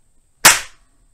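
A World War II German SmK armor-piercing round fires from a K98 rifle: a single sharp, loud outdoor gunshot with a quick decaying tail, and quiet before and after.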